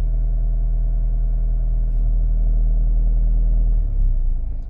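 A car engine runs steadily with a low rumble, its pitch climbing slightly as the RPM rises near the end, close and without talk.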